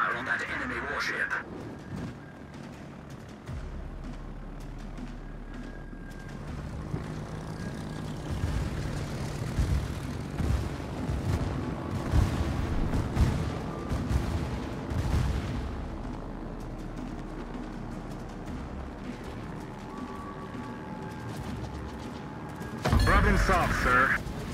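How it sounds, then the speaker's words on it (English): Warship guns firing in the naval battle game World of Warships: a dense stretch of heavy booming salvos and low rumble, with engine drone and voices talking over the action. "Concentrate fire on that enemy warship"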